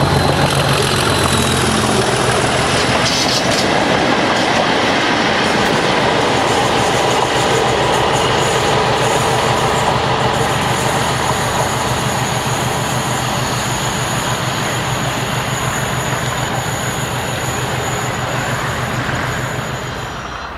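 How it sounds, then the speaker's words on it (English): Class 37 diesel locomotive hauling a convoy of other locomotives through Warwick Parkway station, a loud sustained engine drone with rumbling wheels on rails, steady throughout and easing slightly at the end. "37603 hauls 605, 261 and 612 through Warwick Parkway while en route from Eastleigh to Carnforth"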